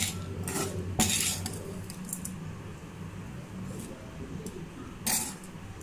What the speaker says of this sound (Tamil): சேர்த்து நல்லா கிளறலாங்க. ஒரு இடம் விடாமல் நல்லா சுற்றிலும் நல்லா கிளறணும்